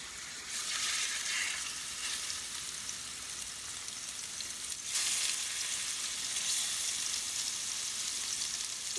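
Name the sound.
pork chops frying in a hot pan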